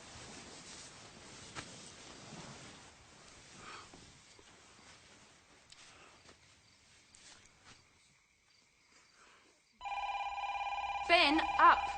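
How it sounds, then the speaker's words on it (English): A telephone rings indoors in a home, its steady electronic ring starting loud and close after a stretch of quiet talk and background noise. "will somebody please answer the phone?"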